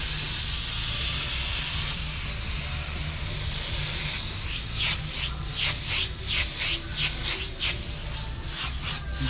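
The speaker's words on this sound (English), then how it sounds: "Gonna fill some space with a little airbrush effect, that's all." An airbrush sprays paint in a constant close hiss, then breaks into a quick series of short rhythmic bursts as the trigger is pulsed.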